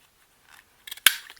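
Scissors cutting through paper masterboards used for handmade embellishments, with a few soft snips and then one sharp, close crisp cut followed by a short rustle.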